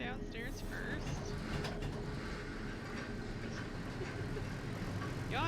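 Pigeons cooing in the video game Jenny LeClue, soft repeated coos over a steady ambient background with faint voices present.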